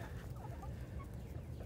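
Chickens cluck softly nearby, a few short, throaty calls over a quiet low background hum.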